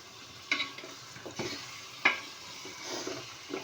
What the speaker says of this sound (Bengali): হ্যাঁ আজকে দেখবো কেমনে করে মাংস ভাজা লাগে।